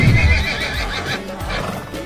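A horse gives a loud, close whinny that trails off, with a few hoof clip-clops and shuffling underneath.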